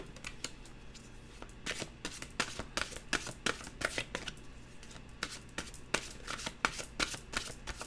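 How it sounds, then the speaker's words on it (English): A deck of mantra cards is shuffled by hand in quick, papery riffles and slaps, repeated in an irregular rhythm, close but quiet. "Okay, let's get a mantra card."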